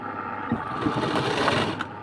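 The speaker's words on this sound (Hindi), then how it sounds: "ये वाली पट्टी को इस तरह से अंदर की तरफ फोल्ड करके हम यहाँ पर से सिलाई लगा देंगे।" A sewing machine runs steadily, stitching a folded strip for a princess-cut blouse, a continuous close whirring hum with a quick rhythmic needle patter and no voices.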